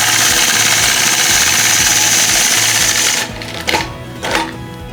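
Sewing machine quilting along the bottom edge of a scrappy rag quilt, loud steady rhythmic motor hum and needle thumping close by for about three seconds, then stopping into quieter handling noises.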